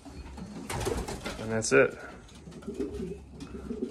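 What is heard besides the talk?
pet birds in a coop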